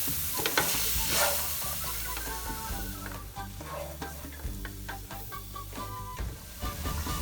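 Chopped tomatoes are stirred into a frying pan while making chana chaat, giving a steady close sizzle with repeated scraping stirs throughout.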